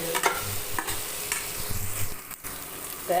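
Okra sizzles softly in a hot pan with intermittent scraping and stirring from a spatula, close by and fairly quiet.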